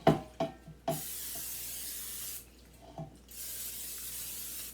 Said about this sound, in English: I'm going to spray this bundt pan very well